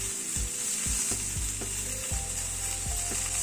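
Fresh pumpkin leaves torn by hand and dropped into a hot pan, sizzling and frying steadily with a few sharp scraping stirs of a utensil against the pan, close and continuous, with no voices.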